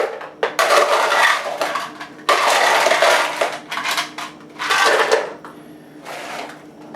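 Ice cubes tumble and clatter into a Vitamix blender jar in several loud, rattling bursts with short pauses between them, close up and with no voices.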